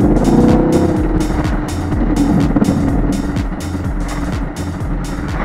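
A Chevrolet Camaro SS driving in sport mode gives a loud, continuous engine drone from inside the cabin, with a steady low rumble and regular rhythmic pulses throughout.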